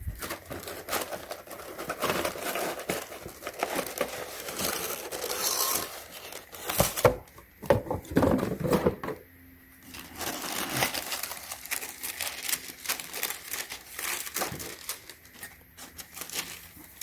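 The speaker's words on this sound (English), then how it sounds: "Hopefully I'm not going to wrinkle the tissue paper." Tissue paper crinkling and rustling while a gift box holding a flowering mini plant pot is unboxed, close-up and continuous, rising into louder crumpling and tearing bursts midway.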